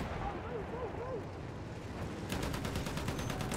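Steady, dense rattle of enemy machine-gun fire in the Battlefield 1 River Somme battle, rapid repeated bursts under battlefield din that grow louder and sharper toward the end.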